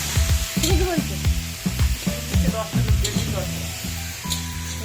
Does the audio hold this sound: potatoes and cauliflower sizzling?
yes